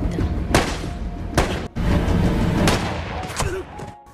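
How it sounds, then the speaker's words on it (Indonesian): Gunshots ring out in an action film about a sniper, as a few sharp cracks and booms burst over a dense, loud background of music and effects. "Jim memberi pistol kepada Miguel untuk melepaskan 2 tembakan sebagai pengalihan"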